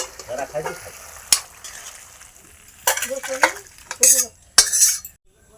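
Whole spices and dried red chillies tempering in hot oil for a simple village vegetable dish, giving a steady soft sizzle broken by loud metallic clinks from a spoon stirring against the pan.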